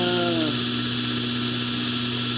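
A belt grinder with a 120 grit belt grinds a Heretic H2 knife blade, producing a loud, steady, close motor whine whose pitch dips briefly at the start, then holds.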